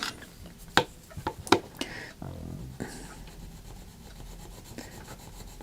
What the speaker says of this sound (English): I'm just going to sharpen again